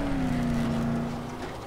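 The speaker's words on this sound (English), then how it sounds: "I'm hearing the engine roar" While driving in the video game Dead Island, a car engine roars steadily and loudly. The pitch holds nearly level and then eases off slightly toward the end.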